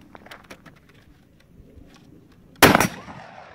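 A shotgun fires one slug from a Stakeout shotgun at 25 yards, a loud sudden boom with a brief trailing echo after a few seconds of quiet outdoor background.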